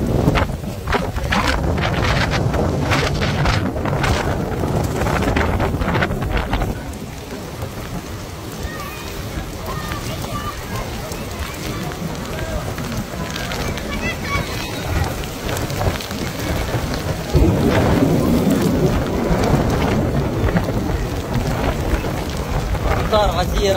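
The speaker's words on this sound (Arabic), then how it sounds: "هواء غزير وأمطار غزيرة ما شاء الله." Heavy rain pours down in Makkah while strong wind gusts batter the microphone, a dense continuous roar throughout with brief swells, and someone speaks over it at times.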